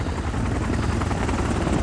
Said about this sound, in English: As other CRM helicopters fly in